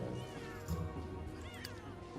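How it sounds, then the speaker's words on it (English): A cat in The Sims 3 meowing and yowling, with a short crash-like thump, a few drawn-out cries close by over game music. "Okay, cat broke something."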